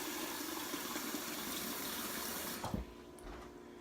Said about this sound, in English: just going to grab a measuring cup, you add some water